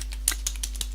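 Several quick keystrokes tap on a computer keyboard, light and close, spaced unevenly over a faint steady hum.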